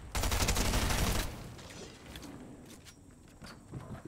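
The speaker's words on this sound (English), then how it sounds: "Where's that shooting coming from?" Video game gunfire roars out as a dense, loud burst of rapid shots for about a second, then quieter distant shots and faint clatter follow.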